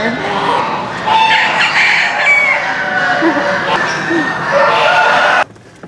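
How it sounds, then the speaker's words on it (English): A crowd of chickens clucks and squawks loudly and close by, with a rooster-like crow mixed in, continuous and busy until it cuts off abruptly near the end. "All these other chickens around here are hilarious."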